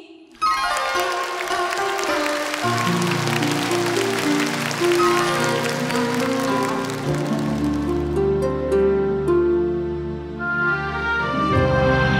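Loud, sustained audience applause at a Vietnamese music stage show welcomes a singer, clapping running steadily alongside instrumental music for the whole stretch.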